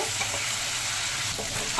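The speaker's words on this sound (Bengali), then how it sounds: "এবার আলু আর পেঁয়াজ ভালো করে ভেজে নেব" Potatoes and onions fry in a pan while being stirred, giving a steady, close sizzle with occasional scraping stirs throughout.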